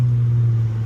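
An Infiniti G25 with a newly installed Injen cold air intake idles steadily on a hot day, giving a close, even low hum and rumble that stays constant throughout.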